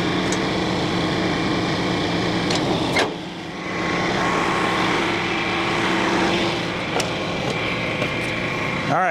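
Tractor engine running near a septic area at an abandoned property, a loud continuous rumbling drone that dips briefly and then resumes, close to the listener.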